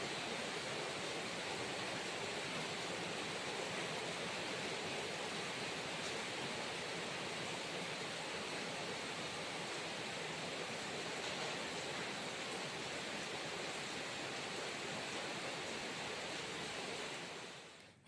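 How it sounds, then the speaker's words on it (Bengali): Heavy monsoon rain pours down outside a window, a dense, even hiss that holds constant for the full length at moderate distance, with no voices, fading out only at the very end. "বাইরে প্রচণ্ড বৃষ্টি পড়ছে মুসলধারে"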